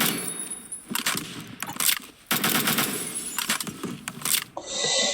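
StG assault rifle firing in the video game Phantom Forces at a low rate of fire, several separate bursts of rapid shots with short pauses between, fairly close, with no talk.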